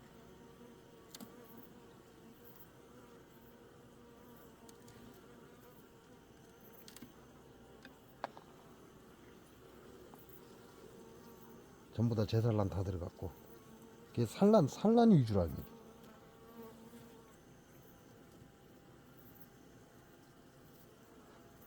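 Honeybees buzz steadily around an open hive during an inspection, a low continuous drone throughout, with two short bursts of nearby talk in the middle.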